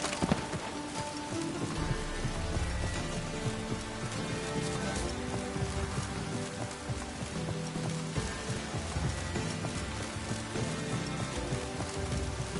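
Steady rain falling in The Witcher 3, a dense, continuous hiss that stays at an even level throughout, with faint hoof clops mixed in and no talk.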